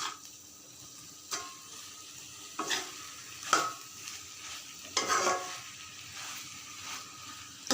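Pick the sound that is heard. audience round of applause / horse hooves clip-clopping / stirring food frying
stirring food frying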